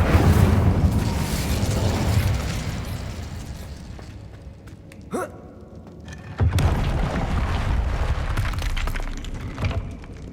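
Incendio fire spell cast in Hogwarts Legacy, bursting with a loud whooshing blast that swells and fades, followed by a second fiery burst and crackling roar.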